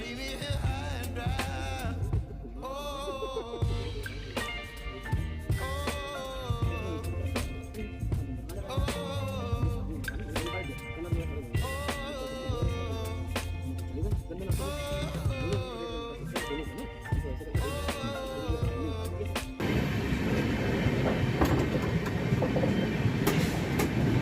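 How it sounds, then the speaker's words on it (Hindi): An express train from Lucknow to New Delhi runs through a station on the way without stopping, a steady loud rumble with rhythmic wheel clatter and tonal rail whine that swells into heavier roaring noise near the end. "इस समय ट्रेन आलमनगर को स्किप कर रही है"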